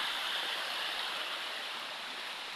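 Agutayo Falls, a tall waterfall, pours as a soft, constant hiss of rushing water, heard at a distance with an even, unbroken texture and no voices.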